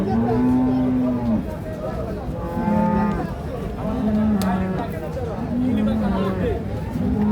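Friesian cows moo repeatedly at a busy border cattle market, with several drawn-out, loud moos in sequence over the chatter of people talking nearby.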